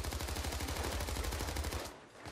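Rapid automatic gunfire in the heist video game PAYDAY 2, a dense rattling burst of shots that cuts off near the end, fairly quiet overall.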